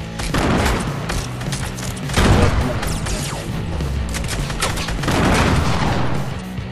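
Video game gunfire in an online shooter, rapid bursts of shots and heavy booms crackling continuously at close range, loud throughout, with surges around two and five seconds.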